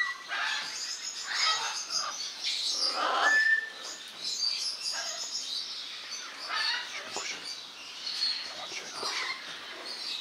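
Birds at a bird park chirp and tweet in scattered short calls among soft rustling and hushed voices, fairly close and at moderate volume throughout.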